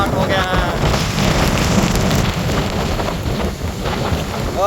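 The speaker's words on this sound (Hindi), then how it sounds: "अभी बारिश हुई है और इसके बाद यहाँ पे तूफान बाद दोबारा स्टार्ट हो गया है।" Steady, dense rain hisses down beside a river in the Jhelum area during a storm, with gusty wind buffeting the microphone throughout at constant loudness.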